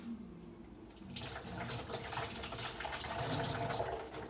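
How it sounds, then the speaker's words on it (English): Tap water runs steadily over ginger being washed at a kitchen sink, a continuous close splashing flow that grows slightly fuller partway through, with no talking. "and then I'm gonna also wash my ginger."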